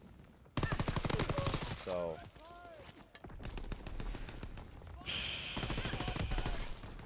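Gunfire in Call of Duty WWII multiplayer: bursts of rapid automatic weapon fire with sharp repeated cracks, loud and close, pausing and resuming, with someone talking briefly over it.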